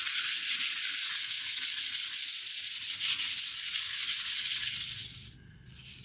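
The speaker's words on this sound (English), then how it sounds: "I am going to give it a very light sand with 220" Light hand sanding with 220 grit sandpaper, smoothing conditioning-pad marks left by a die grinder on a J.H. Williams wrench: steady rapid back-and-forth rasping strokes, close and loud, stopping abruptly near the end.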